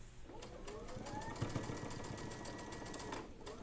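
A sewing machine runs steadily, stitching a quilt star block seam through layered, nested fabrics; a continuous mechanical whir holds for a few seconds at a moderate, close level before easing off at the end.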